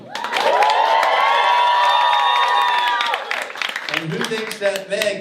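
Comedy club audience at Helium Comedy Club in Philadelphia erupting into a loud cheer with whoops and clapping that holds for about three seconds, then breaks into scattered claps and shouts as it fades.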